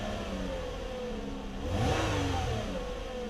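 A car engine held at idle and then quickly blipped on the throttle, rising to a brief rev in the middle before settling back, steady and close with no talking.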